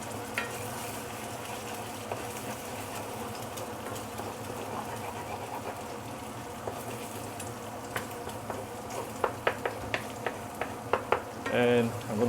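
An egg is broken up and stir-fried with noodles, a steady sizzle running underneath while spatula scrapes and clacks on the pan grow more frequent and louder toward the end.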